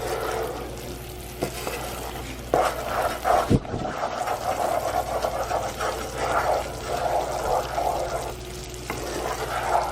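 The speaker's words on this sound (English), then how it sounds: "It's starting to boil." A marshmallow-fluff fudge mixture bubbles in a pan as it starts to boil, giving a close, steady bubbling hiss with occasional stirring scrapes and knocks.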